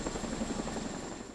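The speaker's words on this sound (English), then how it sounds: "Dozens of helicopters are shuttling back and forth, and more are on their way." Dozens of military helicopters shuttle back and forth over the Kashmir earthquake zone, their rotors making a steady, loud, close drone throughout.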